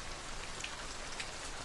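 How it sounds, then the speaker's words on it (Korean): Steady rain falling on a surface, a soft continuous patter of raindrops at even, moderate loudness, with no voices over it. "집에서 빗소리 듣는 게"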